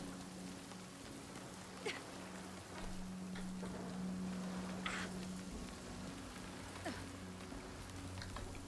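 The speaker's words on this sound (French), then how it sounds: "Grêle." Hail pattering steadily in the survival game Nightingale, a soft continuous rain-like hiss of small impacts with a few sharper taps and a low steady hum underneath, moderately quiet and without talk.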